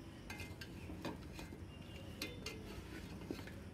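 Beef kala bhuna being stirred continuously in an uncovered pot, a spoon scraping and clinking against the metal in quick irregular strokes over a steady low sizzle, close and moderately quiet.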